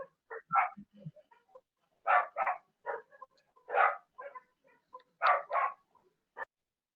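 Single and doubled barks come from a dog in a participant's home during an online class, spaced irregularly with short gaps between them and heard fairly close with no talk over them.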